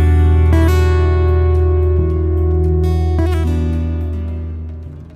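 Guitar chords ring out alone with long sustain, a few clear changes of chord, then fade gently at the end. No voices.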